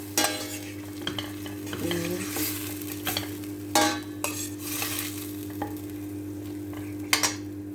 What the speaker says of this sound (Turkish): Kemiği biraz kavurmam lazım.